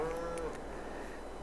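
Cattle in Farming Simulator 22 give a single sustained moo near the start, a steady mid-pitched call that fades after about half a second into quiet farm ambience.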